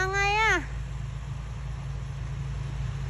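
A cat gives a single rising-and-falling meow at the start, close and clear, then only steady low rumbling background noise continues.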